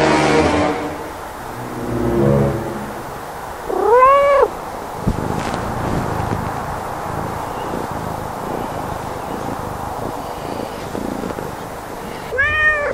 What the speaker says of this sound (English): Tell the people that you're a good cat.